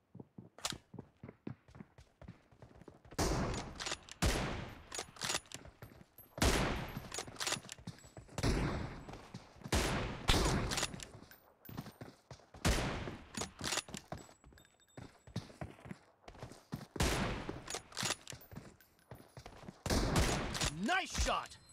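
Repeated bursts of automatic gunfire ring out in the mobile shooter PUBG Mobile, loud and close, coming in rapid volleys separated by short pauses, with brief game voice callouts mixed among the shots.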